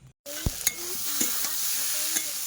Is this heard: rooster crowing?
no